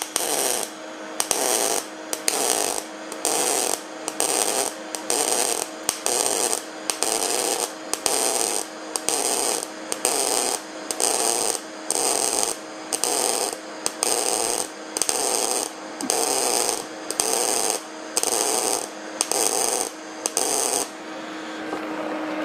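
A wire-feed flux-core welder lays a bead of spot welds, crackling and buzzing in about twenty evenly spaced loud bursts with short pauses between them.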